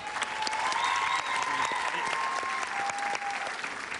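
An audience gives a standing ovation for an 82-year-old acrobatic salsa dancer on a television show, steady dense applause held at moderate level for the whole stretch.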